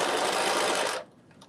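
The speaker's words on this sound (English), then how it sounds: "I can baste it in. I can baste the back. I'll baste in the back straps." A sewing machine bastes the back straps of a cocktail dress, running in a fast, loud continuous whir for about a second before stopping abruptly into near silence.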